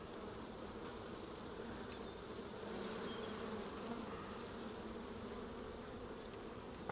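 Honey bees swarm around an opened hive during an inspection, their dense buzzing a steady, close drone that fills the whole stretch without pause.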